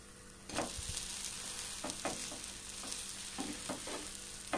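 Kadapa-style red chilli kaaram dosa (erra kaaram dosa) frying in plenty of oil on a pan gives a steady, close sizzle, with a few soft scraping knocks as it is turned.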